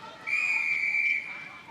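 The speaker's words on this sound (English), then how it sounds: "the heavy whistle has gone there while we've been off on that replay" A referee's whistle at a netball match between Thailand and Brunei at the 2017 SEA Games in Kuala Lumpur gives one long, loud, steady blast that fades into crowd noise.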